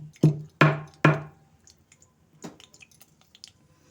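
Whole cardamom being crushed for paneer peas pulao, heard as three sharp close crunching thumps in quick succession, then a softer fourth one and faint scattered small clicks.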